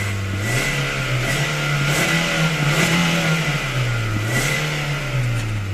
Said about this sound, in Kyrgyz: Уктуңуздар да мотордун звугуну.